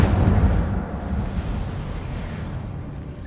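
A whooshing, crackling burst of fire from the Incendio spell in Hogwarts Legacy flares loudly at the start, then fades into a steady roar of flames.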